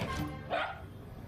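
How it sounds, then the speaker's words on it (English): A Chihuahua and Jack Russell mix gives a single short, sharp bark in the middle, moderately close, over a low indoor background hum. "He's part Chihuahua, part Jack Russell, and part tornado."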